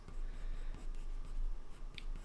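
Coloured pencil scratching over paper while drawing a hare, a quiet, close, continuous scribble of short random strokes with soft rhythmic scrapes, no voice.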